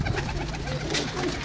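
Pigeons coo steadily and close by in a loft of paired birds, a continuous soft rolling murmur of several birds with no talking.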